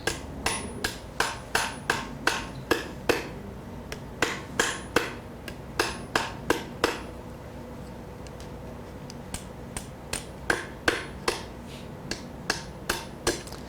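A metal hammer for anticlasting strikes sheet metal while forming a shell. Sharp ringing blows fall in quick bursts with brief pauses between them, close and distinct, with no talk.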